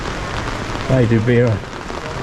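Heavy rain pouring during Storm Boris around a motorhome: steady, dense hiss throughout, with people briefly talking over it midway.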